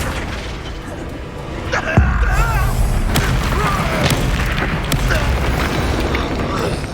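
Spell blasts go off during combat in the Hogwarts Legacy video game, a heavy booming impact near the two-second mark followed by crackling magical bursts and whooshes, with a voice shouting spell names over the effects.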